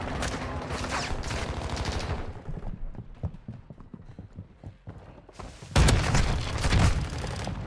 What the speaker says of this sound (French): Je tire un poil à côté à chaque fois